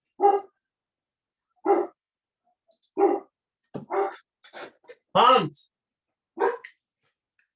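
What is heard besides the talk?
dog barking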